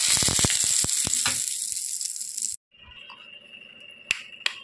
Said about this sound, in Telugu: ఆయిల్ పోసి ఇందులో నేను జీలకర్ర, మినపప్పు వేసి ఈ చట్నీ తాలింపు పెడుతున్నాను.